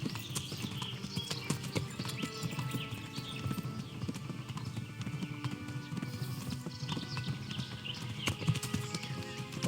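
Galloping horse in Kingdom Come: Deliverance, a soft continuous patter of hooves mixed with game ambience and scattered clicks, moderately faint throughout.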